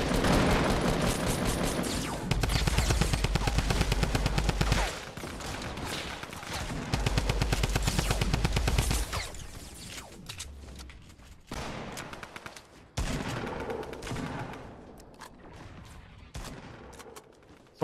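Gunfire crackles through a Fortnite match: rapid automatic bursts alternate with single sniper-like shots and sharp cracks. Some volleys sound close and loud, others thinner and farther off, with a few quiet gaps between the exchanges.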